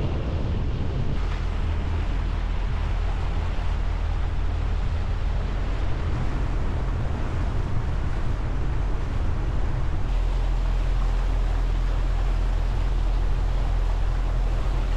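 An old 1970s Birchwood motor boat passes on the River Dart, with a steady, loud rush of engine drone and churning water layered with wind buffeting the microphone throughout and no talking.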